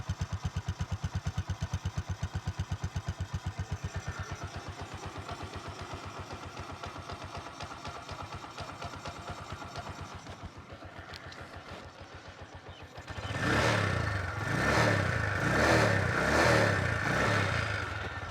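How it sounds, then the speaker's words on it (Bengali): A 2023 Bajaj CT100 self-start motorcycle in fresh condition runs with a steady, even thump at idle, then the engine note shifts and grows louder and rougher in the last few seconds as it is revved. "ইঞ্জিনের সাউন্ড কিন্তু একেবারে ফ্রেশ কন্ডিশন আছে এবং স্মুথ ইঞ্জিন আছে"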